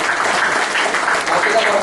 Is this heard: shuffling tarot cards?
no